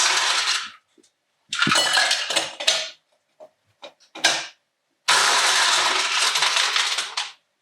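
Ice rattles and clinks into a mocktail glass or shaker in several loud, close bursts separated by short silences, ending in a longer clattering pour.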